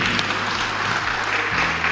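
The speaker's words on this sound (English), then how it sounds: "I think another round of applause will be good for him." A conference audience at a national address applauds in a steady, dense wash of clapping that is loud and sustained for the full two seconds, with a low hum beneath.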